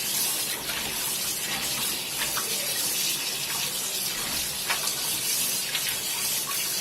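Cotton fabric freshly dyed is rinsed under a running tap, a steady broadband rush of water splashing continuously at close range with faint spatters and no voices.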